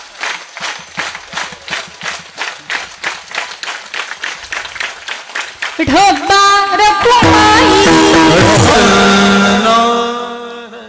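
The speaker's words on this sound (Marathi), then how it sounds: "माझ्यासोबत सगळ्यांनी एक टाळी वाजवायच्या" A kirtan audience claps together in a steady, even rhythm, many hands striking as one, before loud music with a harmonium-like drone and percussion swells over the clapping.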